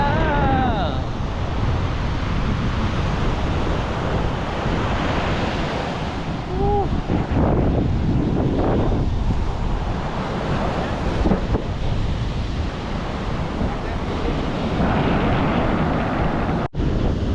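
Wind blows hard across a Sri Lankan beach in the low season as surf rolls in, a continuous loud rush with heavy microphone buffeting and waves breaking beneath it.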